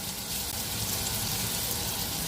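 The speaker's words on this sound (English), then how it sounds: "That's a good sizzle." Carbonara ingredients frying in a pan give a steady, continuous sizzle with faint watery hiss, fairly close and even throughout with no talk over it.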